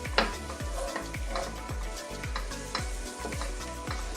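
Strong cheese stirred into a sizzling pan gives a steady frying hiss, with rhythmic scraping strokes of a utensil against the pan repeating about every half second, close up.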